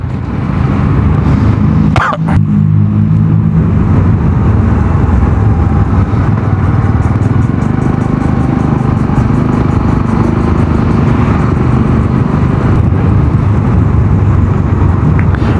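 A motorcycle engine runs steadily and loud throughout on a road near Talisay, Batangas, with constant road and wind rumble and a brief sharp knock early on.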